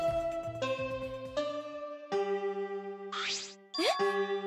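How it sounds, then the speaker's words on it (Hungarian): A chime rings out in the video game Danganronpa V3: a run of bright, clear tonal dings with long ringing overtones, struck one after another and loud and close, followed by a shorter rising electronic flourish at the end. "Ez a csengő..."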